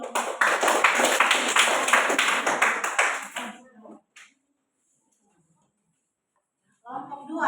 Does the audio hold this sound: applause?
yes